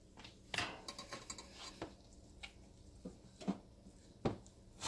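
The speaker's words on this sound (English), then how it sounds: "I just start mashing." Potatoes being mashed by hand with a masher for homemade mashed potatoes with butter and milk, giving irregular soft thuds and clinks against the pot, moderately quiet with pauses between strokes.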